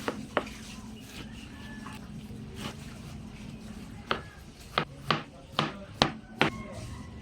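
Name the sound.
slicing cooked banana heart with knife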